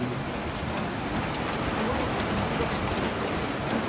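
Steady, dense rain from Typhoon Uwan falls in Rizal, Philippines, a constant even hiss of drops on surfaces with no pauses and no voices.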